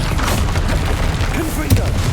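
Rapid fiery Confringo spell blasts burst in quick succession during combat in the video game Hogwarts Legacy, loud and close, with a sharper pop near the end.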